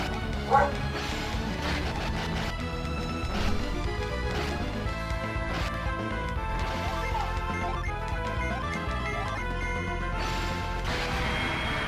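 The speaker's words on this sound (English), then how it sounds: "Dexter, you're not a good guard dog." Guard dog barking in Golden Sun: The Lost Age, a short yelp near the start over busy, continuous game music with sound effects throughout.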